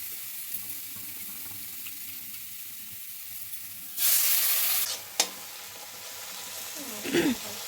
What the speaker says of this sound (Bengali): যতক্ষণ না তেল ছাড়ে ততক্ষণ একটু কষিয়ে নিতে হবে